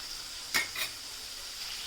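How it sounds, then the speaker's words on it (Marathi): Chopped onions frying gently in oil over a low gas flame, a soft steady sizzle with a couple of quick stirring scrapes of a spoon in the pan. "इथे आपला कांदासुद्धा मस्तपैकी तेलामध्ये मिक्स करून झालेला आहे आपल्याला गॅस स्लो ठेवूनच कांदा पूर्णपणे शिजवून घ्यायचा आहे"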